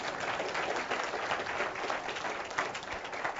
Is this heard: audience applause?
yes